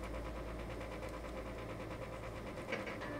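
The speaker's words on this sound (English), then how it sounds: "Isn't my air conditioner lovely?" A room air conditioner drones with a steady, low mechanical hum and faint rattling, close and continuous, with no other sounds over it.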